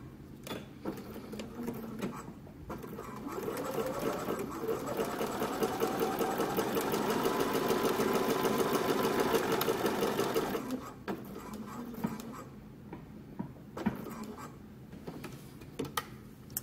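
A home sewing machine stitches the yoke opening of a summer dress, a rapid mechanical whirr that runs steadily for several seconds, then stops, followed by faint clicks and handling sounds.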